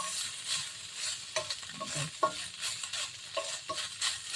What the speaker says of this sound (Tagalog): lalagyan natin ng konting konting mantika para may gisa natin yung bawang at saka sibuyas